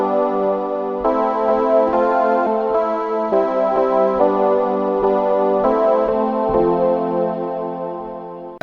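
Keys preset from the Buzz Zone synth plugin with an 80s digital character, playing a sequence of bright, glassy sustained chords that shift roughly every second, loud and alone without speech.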